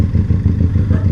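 Motorcycle engine idling and rumbling close by as it is ridden into a house, a steady low throbbing with slight clatter, loud and alone.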